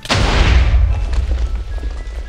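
A loud, close explosion in Minecraft, set off while opening video-game lucky blocks, bursts at once and then rumbles and fades over about two seconds, with no talking over it.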